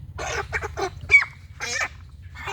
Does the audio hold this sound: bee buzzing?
no